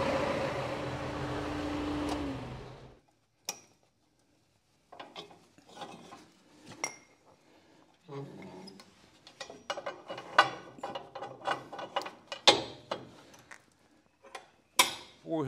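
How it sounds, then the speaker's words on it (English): A run of quick metallic clicks and ratcheting pawls from a jack being lowered beneath a tractor's bush hog mower, in short bursts after an engine noise cuts off, fairly close with pauses between strokes. "take my jack out from underneath it"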